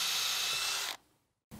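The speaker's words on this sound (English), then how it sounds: "measure in about 3/4 inch on top and bottom and drill a hole." A power drill bores a hole in a wooden sawhorse board, a loud steady whir lasting about a second that cuts off sharply, followed by quiet and a brief knock.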